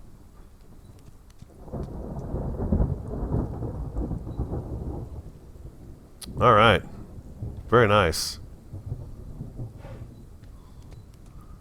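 A thunderstorm rumbles with steady rain in an Old West video game, the heavy wash of rain broken by two loud thunder cracks while someone talks briefly over it.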